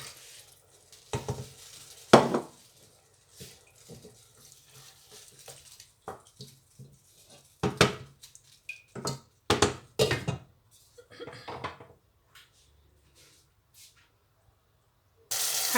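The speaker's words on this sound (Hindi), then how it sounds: "थोड़ा सा पानी डालेंगे ताकि ये गल जाए।" A little water goes into a pot of cucumber curry on the stove, bringing brief hissing sizzles and scattered stirring clatters between quiet gaps, with a louder burst at the end.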